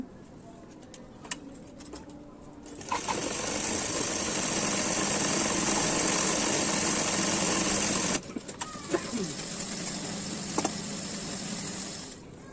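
A sewing machine stitches the side seams of a puff-sleeve nightie in fast, steady runs: a loud buzzing whir for several seconds, a brief pause with small clicks, then another quieter burst of stitching.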